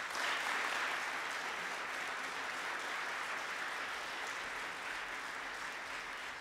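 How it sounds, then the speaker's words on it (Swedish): A warm round of applause from an audience at a Holocaust remembrance evening, dense steady clapping that fills the hall and holds evenly throughout, without speech. "Ge dem en varm applåd när de kommer."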